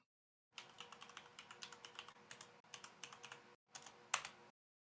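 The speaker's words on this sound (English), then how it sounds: "Oh, you sound like you have a clacky keyboard, man." Rapid, clacky typing on a Corsair mechanical keyboard with Cherry Red switches, steady bursts of keystrokes with a brief pause, fairly quiet and close with no voices.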